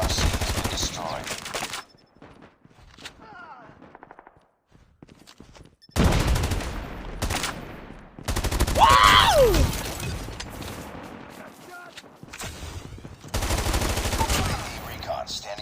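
AK117 Dragon's Breath rifle firing in COD Mobile, several loud bursts of rapid automatic fire separated by quiet gaps, with a swooping synthetic effect in the middle.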